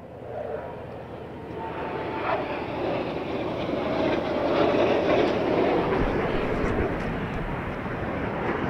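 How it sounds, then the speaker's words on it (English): Military jets of the Chinese Air Force aerobatic team perform a display at Airshow China in Zhuhai, 2018, producing a broad, continuous, swelling jet roar with faint crowd noise. "this aerobatic shows is displayed by China's Weiwei aerobatic team by China Air Force"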